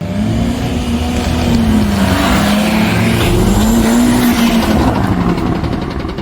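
VW Polo 6N2 Quattro doing a burnout on a country lane, engine revving hard under a continuous loud tyre squeal that wavers in pitch.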